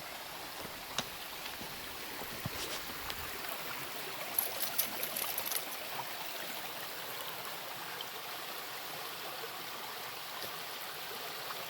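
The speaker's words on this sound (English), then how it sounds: "Creek flowing through here." A steady, soft rush of flowing creek water in Ouachita National Forest continues throughout, even and unbroken, with faint trickling detail and no voices.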